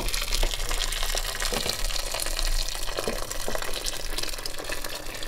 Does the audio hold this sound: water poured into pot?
yes